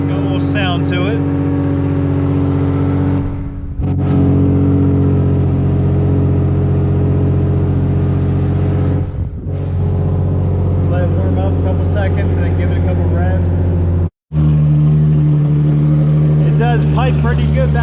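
A straight-piped Infiniti G35 engine runs loud and steady with a deep, harmonic-rich exhaust drone, dipping briefly a few times as the throttle lifts before settling back to a strong, sustained roar.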